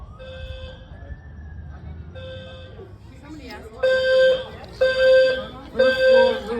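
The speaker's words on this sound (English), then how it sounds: "You can hear the fire trucks. They're starting to come." Fire truck sirens wail and horns blare as the trucks arrive at a building after a fire alarm, starting as repeated tones and a rising wail, then growing louder with three strong horn-like bursts near the end.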